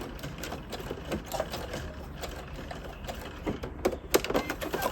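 Close sewing machine stitching fabric for a top and pleated skirt, a rapid needle clatter with uneven bursts and a continuous motor hum throughout.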